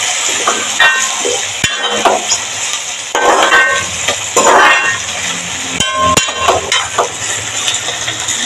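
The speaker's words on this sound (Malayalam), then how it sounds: "ഇനി നമുക്കൊരു വേപ്പിലിട്ട് കൊടുക്കാം." Curry leaves dropped into hot oil in a pan alongside ginger, garlic and green chillies for a coconut-milk tomato curry, crackling and sizzling steadily up close, with spoon stirring and occasional pan clatter through the bursts.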